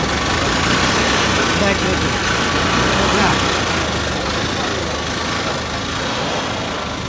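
A homemade jeep built by a tenth-grade student, its engine running steadily after being started, a continuous close rumble with voices talking over it.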